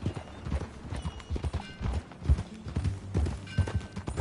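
Horse hooves clip-clop steadily in the Western video game Red Dead Redemption 2, with a brisk, even rhythm of close, loud hoofbeats on hard ground, joined by some creaking tack and outdoor ambience.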